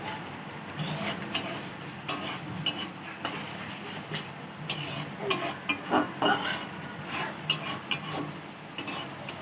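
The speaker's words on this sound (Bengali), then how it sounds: "ভালো করে কষিয়ে নেবেন।" Masala being stirred and sautéed in a pan for potol chingri, Bengali pointed gourd and prawn curry: steady scraping and rubbing of a spatula against the pan with small clinks, moderately close, with no talk.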